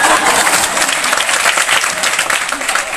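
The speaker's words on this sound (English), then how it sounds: "Oh, please clap, please clap." A comedy club audience claps for a Filipino stand-up comic, a loud, close, steady burst of many hands applauding with some voices mixed in.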